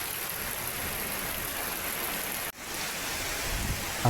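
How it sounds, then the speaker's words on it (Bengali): Heavy rain pours down in a storm, a steady wide hiss that fills the whole stretch, broken only by a brief cut near the middle. "এই দেখেন বৃষ্টি পড়তেছে"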